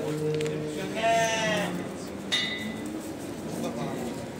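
Sheep bleating at a crowded livestock market in Aksaray, Turkey, among sacrificial lambs, a few loud nearby bleats over steady crowd murmur and scattered clinks, with people talking in the background.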